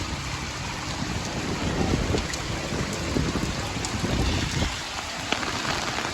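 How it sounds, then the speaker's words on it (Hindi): Heavy rain with wind in Dadyal, Azad Kashmir: a dense, steady downpour hisses and patters continuously, with scattered louder drops close by and no voices. "ये चेक करो इतनी तेज बारिश लगी हुई।"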